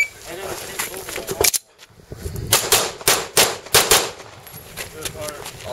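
Gunfire at an outdoor shooting stage: a fast run of loud, sharp shots in close succession, with a brief pause between bursts and people talking around the shots.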